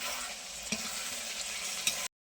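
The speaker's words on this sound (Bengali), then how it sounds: "সুন্দর করে একটু নাড়াচাড়া করে নেব" Chilli chicken sauce is stirred in a hot pan, a close steady sizzle with a few sharp scraping clicks of the spoon against the pan, ending abruptly.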